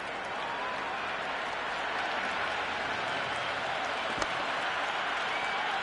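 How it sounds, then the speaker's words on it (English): A stadium crowd in the cricket video game Cricket 26, during an ODI World Cup match on PS5, keeps up a continuous, even roar of cheering that sounds distant and fills the whole stretch, with one brief sharp knock. "There's an almost tangible fervour throughout the crowd at the moment."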